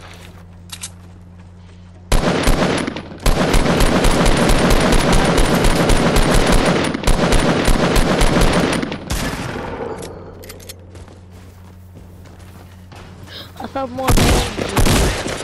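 Loud bursts of rapid automatic gunfire in a video game rattle on for several seconds, break off, then return in shorter volleys, with a player's voice briefly heard over the shooting.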